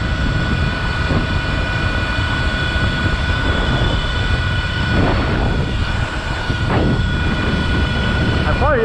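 An electric Surron X dirt bike rides downhill, giving a steady, high motor whine over constant rushing wind noise that continues close and loud without pause throughout.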